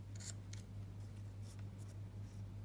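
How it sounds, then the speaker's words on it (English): Scissors snip off excess ribbon on a handmade card box, a few quick faint cuts in a quiet room over a low steady hum. "Cut the excess off."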